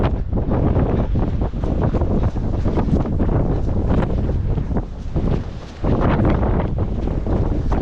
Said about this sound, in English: Pretty sure this wind is stronger than when I did the fairy tale of Newquay.